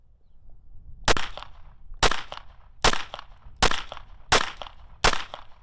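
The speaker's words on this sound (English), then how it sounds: "We're gonna actually try to get a 5-shot group." Five sharp pistol shots from a Jacob Grey 2011 ring out at the range, evenly spaced about a second apart, each a loud crack with a short echo.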